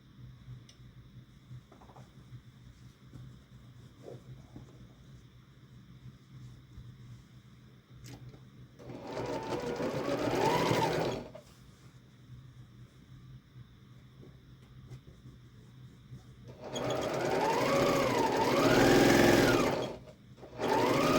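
Sewing machine stitching a modern quilt block in two bursts of steady, close mechanical whirring, separated by a quiet pause with only a faint background hum.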